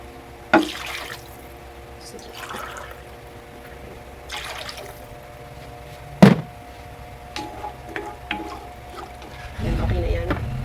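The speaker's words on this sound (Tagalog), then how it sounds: "Tapos lalagyan na natin ng tubig." Water poured into a cooking pot for liddeg, an Ilocano dish: a short rushing splash near the end, after scattered clanks and knocks of utensils and pot in a quiet kitchen.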